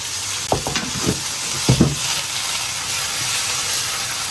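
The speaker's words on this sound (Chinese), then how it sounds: "加点水，下入肥肠，轻轻一煸就可以了。 提前准备好的淀粉水给它倒里面。" Pork intestines stir-fried in a pan with starch water poured in: a steady hiss of frying with a few scraping stirs and pan knocks near the start, no talking.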